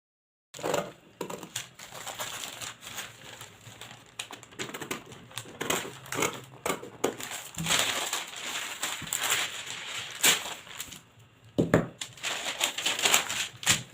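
Scissors snip through a paper sleeve pattern in a quick, uneven series of close crisp cuts, with paper rustling and crinkling between them and no talking.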